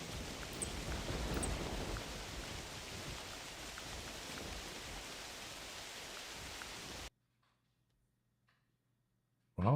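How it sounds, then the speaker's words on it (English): Steady rain in the hunting game theHunter Classic, a dense even hiss of falling water that runs for about seven seconds and then cuts out to near silence. "It's kind of hard to hear calls too when it's raining out"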